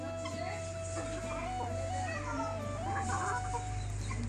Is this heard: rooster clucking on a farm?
yes